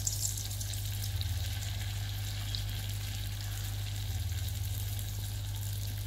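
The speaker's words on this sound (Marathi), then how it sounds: "आता आपण त्यांना डीप फ्राय करूयात." Cheesy potato bites deep-fry in hot oil, giving a constant soft bubbling sizzle over a low steady hum throughout.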